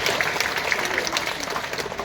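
Audience applause fills a hall, a dense, close burst of many hands clapping steadily and loudly for about two seconds without pause.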